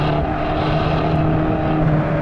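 Fiat Abarth engine pulling hard on a race track with a Golf close behind, a loud, steady, rough engine drone that continues without pause.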